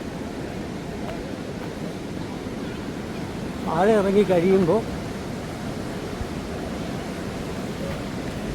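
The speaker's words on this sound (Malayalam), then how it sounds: "ഇതാണ് ആതിരപ്പള്ളി വെള്ളച്ചാട്ടത്തിൻ്റെ മുകളിൽ നിന്നുള്ള കാഴ്ച" Water rushes steadily at Athirappilly waterfall, heard from the top of the falls as a continuous, even roar. A person speaks briefly partway through.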